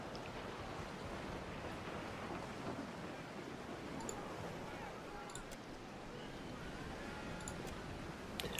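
A Pillars of Eternity 2 storm brings heavy rain and gusting hurricane wind in a steady, roaring wash that runs unbroken throughout, with faint distant rumbles and a few scattered clicks over the torrent.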